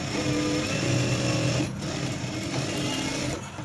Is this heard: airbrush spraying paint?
no